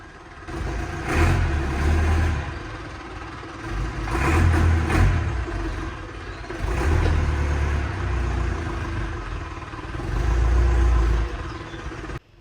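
A Range Rover Classic engine runs while warming up, its low rumble swelling and easing in repeated revs roughly every three seconds, loud and close with no talk.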